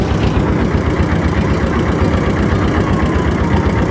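A motor boat engine chugging steadily on the Teesta river as the boat nears the landing, loud, close and continuous, with no speech.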